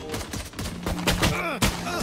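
Rapid gunfire in the shooter game Valorant, several sharp shots in quick succession with ringing metallic tails, loud and close in the game mix.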